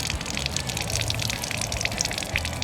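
Water drains out of a solar wash system as a steady, continuous gushing rush that holds at an even level throughout.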